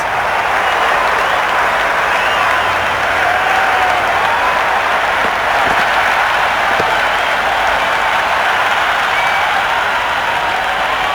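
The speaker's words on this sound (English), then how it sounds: "The crowd are loving every minute of this match." A large crowd at a Zimbabwe versus India T20 cricket match applauds and cheers without pause, a dense, loud wash of clapping that fills the whole stretch with no break.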